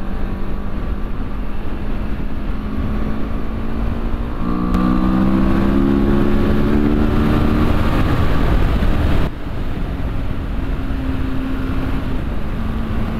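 A CFMOTO CLX 700 motorcycle engine drones loud and steady while riding, rising in pitch midway as it accelerates, then easing back to a constant hum under heavy wind rush.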